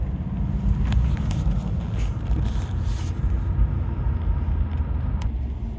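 Mercedes S420 W126 with a torquey old V8 and four-speed automatic, heard from inside while driving: a steady low engine rumble and road drone with some wind noise, continuous throughout.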